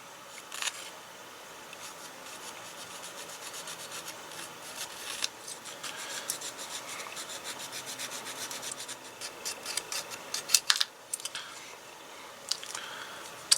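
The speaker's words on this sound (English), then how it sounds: "Actually, using the saw, it's quite easy to cut it off." A 0.1 modeling saw cuts a 3D printed scale-model detail part off its print base, giving a steady close-up rasping scrape of fine teeth on resin that grows sharper and more clicky near the end.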